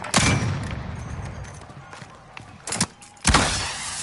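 Video game gunfire during a gulag duel: a loud burst of shots at the start, then a quick pair of sharper cracks and one more heavy blast near the end over low background rumble.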